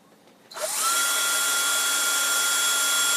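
A power drill spins up after a brief quiet moment and runs at a steady, loud, high-pitched whine through to the end, drilling a hole in a costume helmet.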